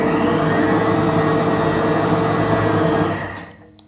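Food processor mixing and chopping mushroom Lyoner sausage meat at low speed, a loud steady whirring motor drone held for about three seconds before spinning down and fading out, no talk.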